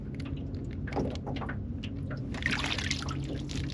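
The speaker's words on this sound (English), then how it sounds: "Dunk it in the water, and the water forces all the air out." A plastic bag is dunked in water to force the air out, with gurgling and sloshing as it goes under the surface and trickling and splashing close by.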